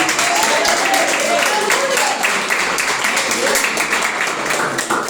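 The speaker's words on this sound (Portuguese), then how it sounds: "Palmas de vitória para Jesus." A church congregation applauding together during a Portuguese-language service, steady dense clapping filling the room, with a voice speaking over it.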